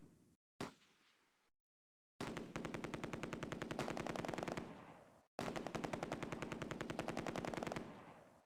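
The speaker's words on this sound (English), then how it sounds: "the enemy keep firing with a single machine gun and a mortar and occasional small arms" Machine-gun fire comes from the Close Combat war game, set at Nijmegen Bridge during Operation Market Garden. One or two single heavy blasts with decaying tails lead into two long, steady bursts of rapid shots.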